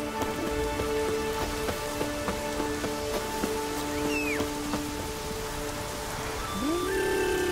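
Light drizzle in The Witcher 3 makes a soft, steady patter throughout, with faint tonal game sounds and a brief rising call layered on top near the end.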